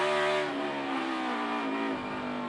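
NASCAR stock cars roar at full throttle in a drag race during a restart at Sonoma, a dense, loud engine howl with rising harmonics sustained throughout and no talk.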